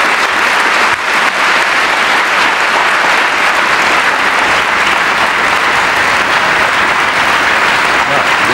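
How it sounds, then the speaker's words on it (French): A lecture audience at Sciences Po gives loud, sustained applause, a dense, even wash of many hands clapping without pause for over eight seconds. "Je crois qu'on peut déjà à ce stade applaudir pour ces réponses nos deux auteurs"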